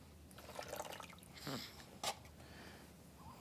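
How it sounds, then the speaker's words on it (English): A little warm water is poured and splashed while a newborn baby is bathed, giving soft close trickles and a few brief drips and splashes at low volume, with no talking. "Just put a little bit of water."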